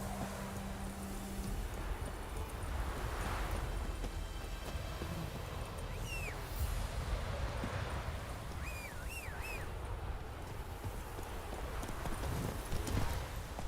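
Roach the horse trots in The Witcher 3, steady clip-clopping hooves under outdoor ambience, with a few faint bird chirps overhead.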